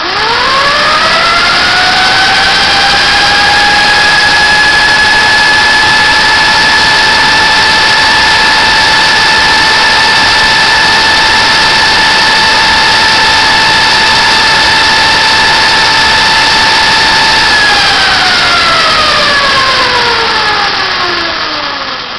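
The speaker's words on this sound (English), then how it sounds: "this is our 1999 CR80RB running only at 12 volts with our new motor" A 1999 CR80RB electric motorcycle runs on a new motor at 12 volts, giving a loud, steady whine that rises in pitch at spin-up, holds level, then falls away as it winds down.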